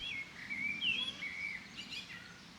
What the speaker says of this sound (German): Herrlich die Vöglein